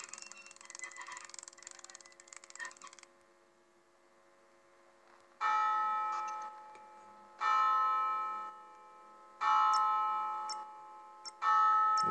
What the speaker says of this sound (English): Will he follow the bell?